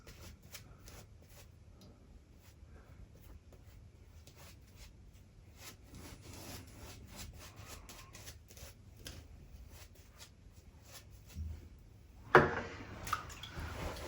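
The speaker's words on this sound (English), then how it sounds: "I just picture it as kind of applying the lather to my face." A custom shaving brush works a built-up lather of Barrister and Mann Le Grand Chypre soap across a face, making soft, close, quiet swishing and squishing strokes in a steady rhythm, with a louder brush against the skin near the end.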